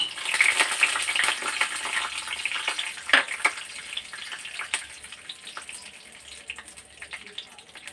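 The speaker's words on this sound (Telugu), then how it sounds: "ఫస్ట్ మనం పల్లీలు వేసుకుందాం" Peanuts frying in a pan for a raw tomato chutney, a steady bright sizzle and crackle with scattered sharp pops, loudest at the start and easing slightly toward the end, close up with no talking.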